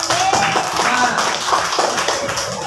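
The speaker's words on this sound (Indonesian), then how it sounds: "Tepuk tangan untuk Bimo." A group of students claps for a classmate in a school classroom, a steady patter of hand claps filling the room.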